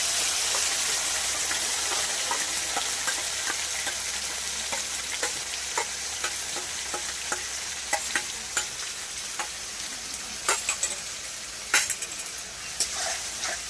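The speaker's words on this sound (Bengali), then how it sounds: "ভালো করে মশলাটা ভেজে নেব।" Ground spice paste fries in a pan with onions, giving a steady close sizzle broken by repeated sharp clicks and scrapes of stirring that grow more frequent toward the end, with no voices.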